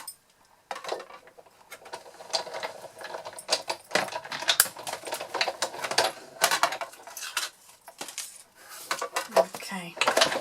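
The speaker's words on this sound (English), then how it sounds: "I just quickly run this through here, just to die cut that word out" A die-cutting machine cuts a word out of material, giving a busy, continuous metallic clatter and rattle with uneven bursts that last throughout, fairly close and with no voices.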